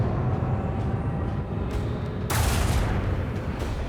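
Ship weapons fire on a Starhawk bomber wing in Rogue Trader, a low continuous rumble punctuated by muffled thumps, then a sudden loud bright burst of firing near the end that sustains as a roaring wash.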